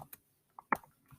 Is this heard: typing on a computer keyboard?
yes